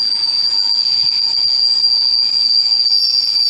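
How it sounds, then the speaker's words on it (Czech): A passenger train arriving at Třebíč station gives a steady, high, sustained wheel squeal over a faint rumble, with no voices. "Takže teď tamhle přijíždí osobní vlak."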